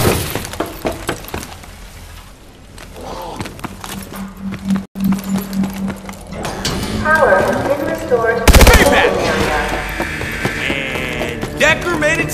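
Gunfire and impacts in Call of Duty: Advanced Warfare Exo Zombies, loud bursts of shots with shattering and cracking effects, game sounds and music layered over a brief spoken line.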